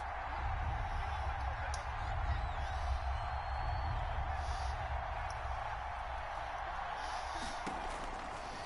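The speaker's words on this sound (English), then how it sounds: "this crowd urging on their defense. They're up and making noise." A stadium crowd in a football video game roars in a sustained, dense wash of cheering and noise, with a few sharp thuds and shouts rising briefly near the end.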